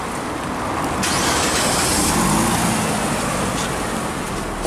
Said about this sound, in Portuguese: Vou dar uma ligada nele aqui para vocês poderem ver como é que o carro está funcionando.